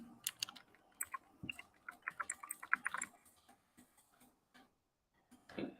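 Keys clatter on a computer keyboard as a shortcut is typed, a quick cluster of crisp close clicks followed by a few scattered taps and a pause.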